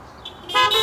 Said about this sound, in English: Honk your horn once.